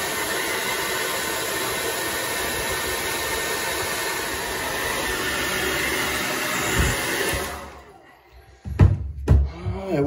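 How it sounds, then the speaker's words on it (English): A hair dryer heats the glue and putty holding down a stuck old bathtub drain, a steady close whooshing blow that cuts off near the end, followed by a few handling thumps. "see if we can't figure out how to work a hairdryer"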